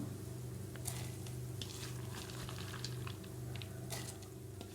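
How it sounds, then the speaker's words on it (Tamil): Quiet, steady bubbling of water boiling in a pot with dal, small pops and gurgles over a low hum. "தண்ணி நல்லா கொதிச்சிருச்சு."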